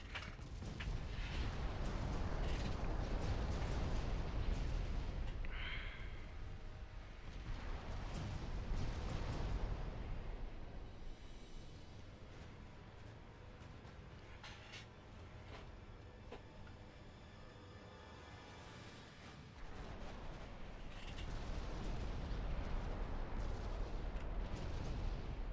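Naval gunfire in the warship strategy game Ultimate Admiral Dreadnoughts: repeated deep booming salvos roll and rumble continuously, with heavy low thuds swelling and fading over a steady mechanical background, no voices.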